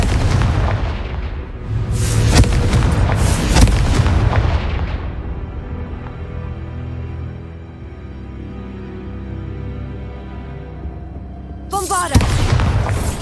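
A Confringo fire spell explodes in Hogwarts Legacy: loud booming blasts with crackling bursts in the opening seconds, a long rumbling decay, then another sharp burst near the end.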